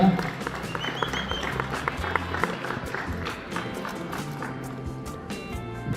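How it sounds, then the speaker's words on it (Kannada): An audience at the Chitrasanthe 2024 award ceremony applauds steadily, with dense, sustained clapping from a crowd throughout. "ದಯವಿಟ್ಟು ಒಂದು ಚಪ್ಪಾಳೆ ಕೊಡಿ ಅಂತ ಕೇಳ್ಕೊಳ್ತಾ ಇದ್ದೀನಿ"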